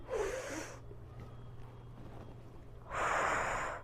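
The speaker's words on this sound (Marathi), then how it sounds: "इथे तुम्हाला श्वास घ्यायचा आहे" Deep breaths during a home belly and weight-loss exercise routine, with two strong breathy bursts at the start and the end, close to the mic, and quiet room noise between them.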